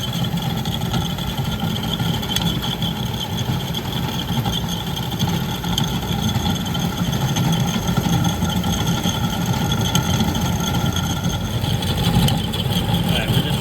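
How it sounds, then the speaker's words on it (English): Blower of an HVAC cooling unit running at higher speed on a call for cooling, a steady, loud, continuous broadband whoosh with a faint hum that holds unchanged throughout. "The blower did speed up."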